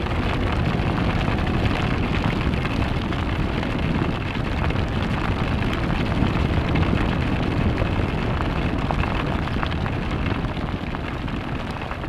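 Heavy rain pours down continuously, a dense, loud, broadband roar that stays steady for the whole stretch with no voices.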